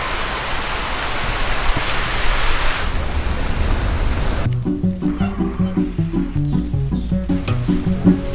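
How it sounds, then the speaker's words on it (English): Heavy rain roars as a dense wash of noise for several seconds, then gives way to music with a steady rhythmic beat. "we are going because the rain is coming from all the sides"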